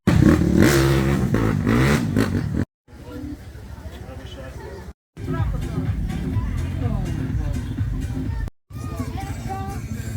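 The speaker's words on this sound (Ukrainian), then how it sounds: "500 сантиметрів кубічних, клас мотоцикл." 500cc motocross motorcycles racing, engines revving hard and loud under continuous commentary talk, with abrupt cuts between segments.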